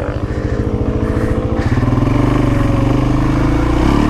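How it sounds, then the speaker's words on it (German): A Suzuki LTZ quad bike engine is ridden close by, throbbing loudly and continuously. Its pitch rises partway through as the rider accelerates past. "Nils fährt LTZ"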